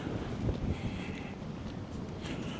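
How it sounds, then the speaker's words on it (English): Strong wind blowing in off the bay at the old naval shipyard at Hunters Point in San Francisco, a steady broadband rush buffeting the microphone throughout with gusts swelling and easing, no voices. "It's really windy here, which is normal. We have the wind coming from the bay."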